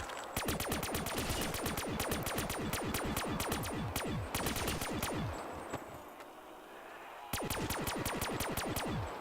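Rapid automatic gunfire from a Black Ops 3 custom zombies game, fired from the hip, comes in long sustained bursts of sharp, evenly spaced shots with brief pauses between volleys and no talking.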